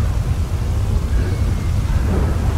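A nighttime thunderstorm in GTA V gives a steady, dense roar of heavy rain with a low rumbling undertone, loud and continuous throughout.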